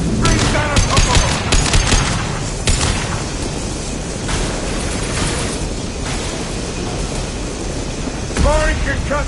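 Gunfire during a Mass Effect 2 firefight aimed at a loose fuel tank: dense, loud bursts of shots and booming impacts come in clusters, then a heavier blast near the end, with voices mixed into the chaos.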